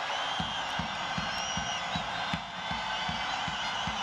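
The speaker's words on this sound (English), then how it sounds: "the crowd lose their minds" Stadium crowd at a Syria vs Australia 2018 World Cup qualifying football match cheering a penalty: a steady, dense roar with regular low drum thumps beating underneath throughout.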